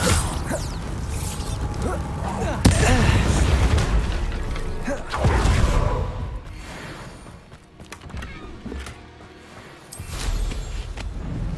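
Blasting-spell explosions in the video game Hogwarts Legacy burst out in several loud, booming hits with crackling, creaking mechanical debris, sharp onsets near 2.7 and 5.2 seconds, then settle into a quieter rumbling bed before another swell.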